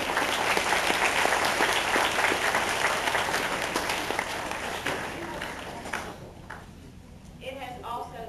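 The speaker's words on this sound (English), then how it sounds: "Please give these young ladies a round of applause." A high school sports banquet crowd applauds with dense, sustained clapping that gradually thins and fades toward the end, with a voice briefly heard as it dies down.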